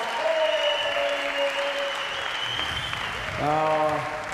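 Crowd applauding at a freestyle trampoline world championship, a steady wash of clapping that swells near the end, with a voice speaking over it.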